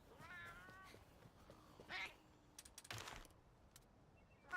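A cat in the video game Monster Hunter Stories 3 gives a short, faint meow, then another brief mew, with scattered keyboard-like clicks and soft taps around them.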